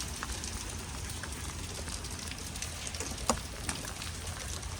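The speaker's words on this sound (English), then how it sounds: "It's raining." Steady rain pattering on a 2021 Grand Design Transcend Xplor travel trailer parked outdoors on a dealer lot, a dense continuous hiss with a few sharper drops, no talking.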